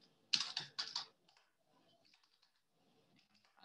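Someone types on a computer keyboard, starting with two loud close bursts of rapid key clicks, then scattered faint taps with pauses, and no talking.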